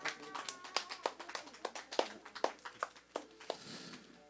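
A small group of children and adults at a church gathering clap in scattered, uneven bursts, fairly quiet and slightly distant, with sharp individual claps standing out.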